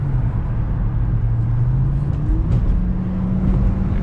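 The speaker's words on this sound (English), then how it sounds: "As you can see, I can get up pretty quick in this vehicle." A Dodge Charger R/T accelerates hard, heard from inside as a loud, steady engine roar with a low droning tone that climbs in pitch as speed builds.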